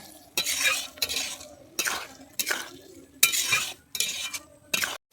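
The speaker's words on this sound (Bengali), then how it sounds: "বাটারটাকে দিয়ে আমি আরেকটু ভালোভাবে নেড়ে নেব" Paneer stirred with butter in a pan for a restaurant-style paneer butter masala, with a spoon scraping in regular strokes about every second, close and clear over a faint sizzle.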